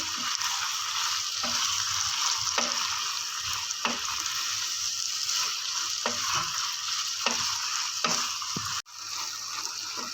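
Spaghetti sauce with chili sauce and vinegar sizzles steadily in a hot pan while being stirred, with a broad frying hiss throughout and soft scraping strokes recurring every second or so, with no talking.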